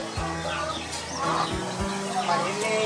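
Laying hens on a poultry farm cluck and chatter in a busy, continuous flock din, with a few low thumps underneath.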